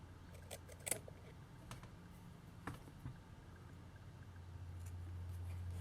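Scissors snipping cotton wick while building an Augvape Alleria RTA rebuildable vape atomizer: a few quiet, sharp snips scattered over a low background hum, with no talking.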